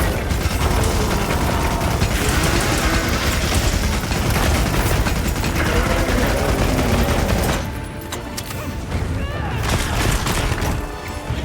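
Machine gun fire in Monster Hunter Wilds, a loud, dense, continuous rattle of rapid shots with mechanical clatter that briefly eases near the end before resuming.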